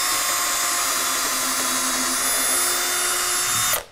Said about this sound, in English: And drill a couple of holes in there of the appropriate size.